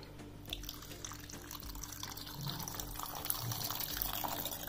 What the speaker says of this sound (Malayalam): അതിനകത്തേക്ക് കുറച്ച് വെള്ളം ഒഴിച്ചു കൊടുക്കാം.